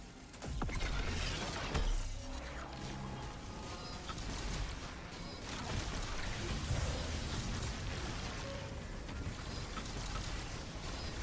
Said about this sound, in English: shoot the turret, pepper that thing a little bit